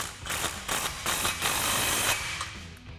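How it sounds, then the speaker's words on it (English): A hand ratchet tightening an exhaust clamp on a 2015-2023 Mustang EcoBoost cat-back muffler, a close, steady run of rapid mechanical clicks carrying on without pause and without talk. "Then once we've got that done, we can go ahead and tighten up the clamp."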